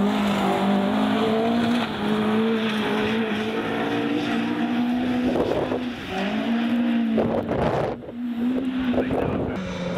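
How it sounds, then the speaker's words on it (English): Rally car on a 2014 Mid Wales forest stage in the RAC Rally Championship, its engine droning loudly and continuously with rising and falling revs and gear changes, close and sustained with wind buffeting, no talk. "The car was barely in a straight line, the back wagging its way through the forest stages"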